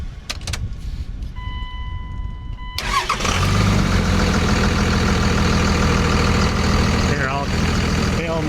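An off-road wrecker truck's engine cranks and fires up partway through, then settles into a steady, loud idle close by, with brief voices and background noise before the start.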